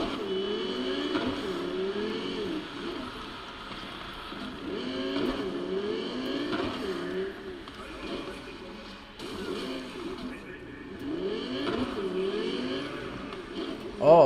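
Engine of an AI-driven car in Cyberpunk 2077, a moderate drone rising and falling with acceleration across the stretch, overlapped by faint voices and game effects.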